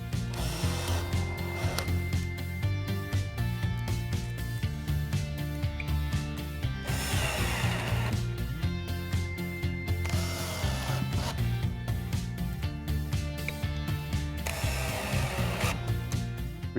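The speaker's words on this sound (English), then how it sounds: "Fix the soft closing runner to the top position and screw to fix." A soft closing runner for a Kessebohmer 150mm base pull-out is screwed onto a cabinet. Dense, continuous mechanical whirring and grinding from a powered screwdriver run loud and close throughout with no pauses.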